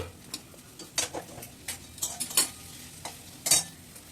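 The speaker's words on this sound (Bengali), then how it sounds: "পেঁয়াজটা ভাজা ভাজা হয়ে গেলে এবার আমি এর মধ্যে ডিমটা দিয়ে দিচ্ছি" Egg fries in a pan with onion, carrot and potato, a soft sizzle running under scattered sharp scrapes and taps of a utensil stirring against the pan.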